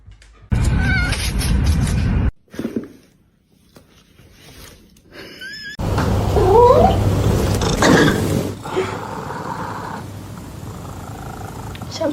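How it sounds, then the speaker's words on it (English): A small kitten purrs and meows loudly up close in short bursts, with rustling handling noise between, while people talk nearby. "I told you he was a little kitty."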